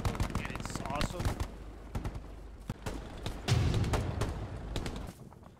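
Rapid machine-gun bursts and scattered gunshots in the Hell Let Loose World War II shooter game, repeated sharp cracks of varying distance over a continuous rumbling battlefield, with voices talking underneath.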